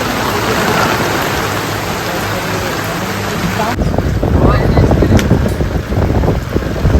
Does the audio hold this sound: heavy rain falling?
yes